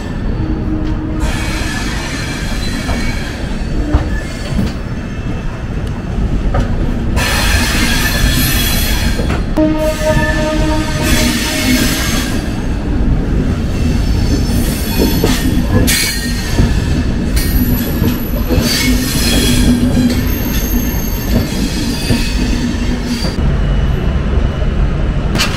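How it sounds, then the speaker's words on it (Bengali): Rajdhani Express train from New Delhi to Dibrugarh via New Jalpaiguri running on rails, a loud continuous rumble with rattling carriages and high wheel squeals lasting throughout. "দিল্লি থেকে আমাদের ট্রেন কিন্তু ঠিক 11:25-এ কিন্তু এখান থেকে ছেড়ে দিবে।"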